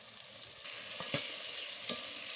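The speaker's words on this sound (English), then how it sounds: "Our tomatoes are cooking down. They're forming a really nice thick paste." Tomatoes cook down into a thick paste for a yellow bean stew, giving a soft, steady sizzle in the pot broken by a few light taps and scrapes of stirring, quiet and without voices.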